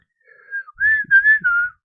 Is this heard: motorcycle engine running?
no